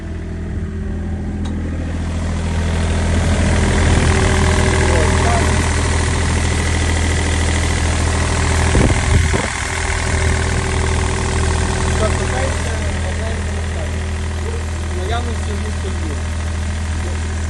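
The diesel engine of a Bomag BW 120 AD road roller idles steadily with a low, rumbling drone and faint knocking, holding constant throughout apart from a brief thump midway.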